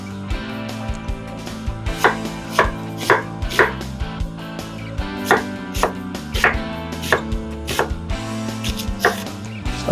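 Knife chopping onions on a cutting board for guacamole, a steady run of sharp, close, rhythmic cuts with no talk.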